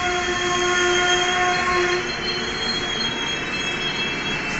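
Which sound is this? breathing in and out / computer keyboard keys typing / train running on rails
train running on rails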